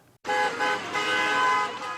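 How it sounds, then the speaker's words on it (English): Car horns honk steadily outside the Cincinnati Zoo where mourners gather for a vigil, a continuous overlapping blare lasting about two seconds after a brief quiet start. "Cars honked in support of the mourners gathered out front of the Cincinnati Zoo on Monday."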